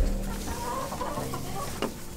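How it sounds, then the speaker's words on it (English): Small mature chicken clucking close by in a farmyard with goats, several short throaty clucks running steadily with no talking. "This is the smallest mature chicken."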